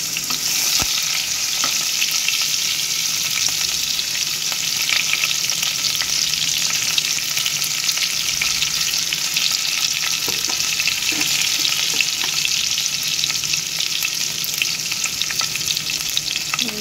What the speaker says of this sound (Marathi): भाजून जाले ते आता घालया ग्रीन चिलीज